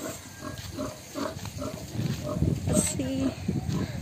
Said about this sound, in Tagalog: May baboy rin dyan. Daming pigs.